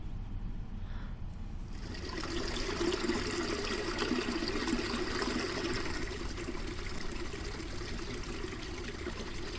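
A river flows around someone sitting in its current below Dixon Falls in Fundy National Park, a steady close rushing and trickling wash that swells slightly after the first couple of seconds and stays even.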